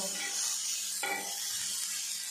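Turmeric and chili powder stirred in a frying pan over low heat, giving a steady close sizzle with scraping stir strokes, louder in the first second and then settling into a continuous hiss, no talk.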